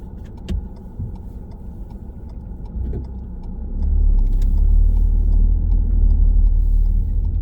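A car pulls away during a driving test in Greenford: the engine idles steadily at first, then its low rumble swells and holds as the vehicle moves off, close and fairly loud, with no talking.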